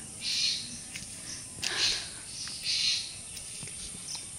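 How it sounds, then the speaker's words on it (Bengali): Several high, soft bird calls come and go at intervals over a faint steady insect hum in the background. "অনেকদিন পাখির আওয়াজও শোনানো হয়নি।"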